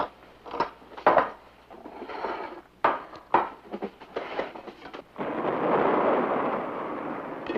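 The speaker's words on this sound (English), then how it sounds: "You hear that? It was thunder." A thunder sound effect from a TV sitcom opens with several sharp cracks and booms, then settles into a loud, sustained rolling rumble, with no talking.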